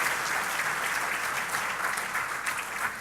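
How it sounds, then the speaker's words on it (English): Steady applause from a conference plenary audience, a dense even wash of many hands clapping at moderate volume throughout, with no voices standing out. "please give them all a nice round of applause"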